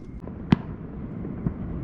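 One sharp firework bang, distant and muffled, heard while fishing for flathead catfish at night, followed by a fainter pop about a second later against a low outdoor hum.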